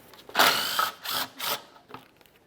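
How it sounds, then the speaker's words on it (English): Ratchet loosening the four mounting bolts on a 2011-2020 Toyota Sienna sway bar bushing, with three or four short bursts of clicking close by over about two seconds, and no talk. "start by removing each of the four bolts"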